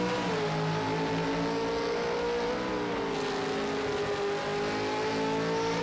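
A Ford Falcon V8 Supercar races at Ruapuna Park, its engine a loud, sustained roaring drone with a slowly shifting pitch as it holds speed close by.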